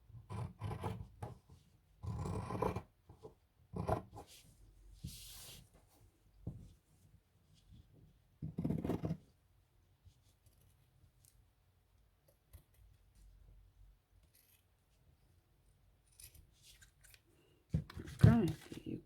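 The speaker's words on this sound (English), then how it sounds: "now I'm just going to cut it out also as closely to the line as possible" Scissors snip through fabric along a traced line while cutting out a small doll shirt pattern, short scraping cuts coming in quiet bursts close to the mic with pauses between them.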